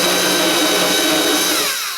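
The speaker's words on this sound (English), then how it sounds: "I guess I should keep the drill on kind of low, not high." A power drill runs at low speed on a door that won't close, a loud close whine holding steady before winding down at the end.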